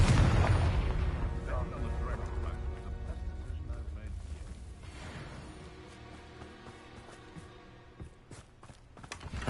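A Confringo blasting spell explodes in Hogwarts Legacy, a loud booming burst at the start followed by a rumbling, crackling decay and scattered smaller impacts, with game music and effects underneath.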